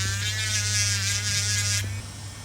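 A small electric nail drill runs with a steady, close, high-pitched whine and buzz, then cuts off abruptly toward the end.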